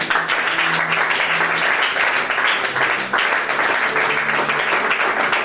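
A church congregation applauds the Lord, with dense, sustained clapping from many hands close by and voices faintly mixed in.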